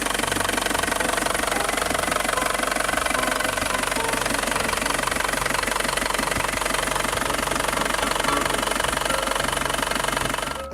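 An Isuzu Rodeo Denver pickup engine runs at a steady idle, loud and close, with a rapid rhythmic knocking clatter that holds constant throughout and no talking.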